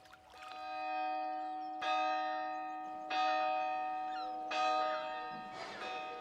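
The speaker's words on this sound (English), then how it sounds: "Who pulls the town hall bell rope but blind Captain Cat?" A town hall bell rung by rope tolls four times in slow, evenly spaced strikes, each rich ringing note lingering and overlapping the next, fairly close and loud against a quiet backdrop.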